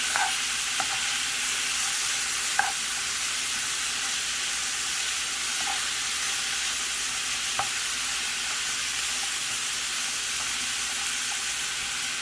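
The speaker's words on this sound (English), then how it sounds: "add my shrimp in, you guys. I'm going to give it a stir." Shrimp sautéing and sizzling in a pan, a steady bright hiss throughout with a few scattered clicks of a utensil being stirred through, close by and continuous, with no voices.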